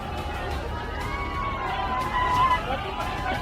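Crowd clashing with police at an ethanol factory in Hanumangarh, Rajasthan, a dense outdoor hubbub of many shouting voices and running feet, steady and fairly loud, with someone speaking over it.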